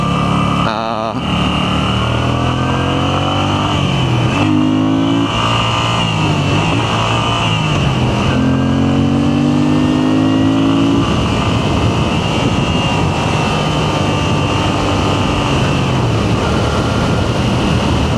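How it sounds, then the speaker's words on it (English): A 2025 Moto Guzzi V7 Sport motorcycle heard from the rider's seat on the road, its engine repeatedly revving up through the gears and easing off, with steady wind rush throughout. "oh yeah, the sound of the engine, oh my god."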